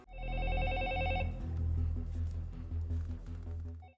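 A telephone rings with a loud electronic bell tone, one sustained burst of repeating trills followed by a steady humming drone underneath until the end.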